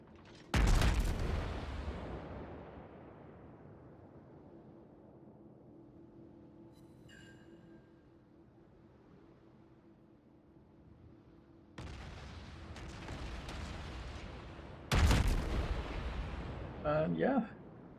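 Naval gunfire from the cruiser Zao in the video game World of Warships: a heavy, close blast opens, then a long rumbling decay over a steady low drone, followed by more loud broadband salvos later on.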